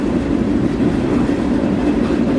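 A freight train rolls past close by with a loud, continuous low rumble and rattling wheel noise, steady from start to finish.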